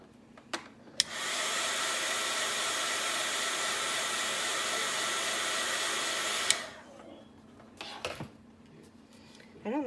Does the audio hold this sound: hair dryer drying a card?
yes